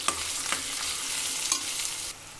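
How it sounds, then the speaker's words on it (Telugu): Thinly sliced onions sauté in hot oil in a pan while paneer butter masala is being made. A steady, loud sizzle runs throughout, broken by a few sharp stirring scrapes, and ends with a slight drop in level near the close. "ఆనియన్స్ కూడా బాగా మగ్గించుకోవాలి."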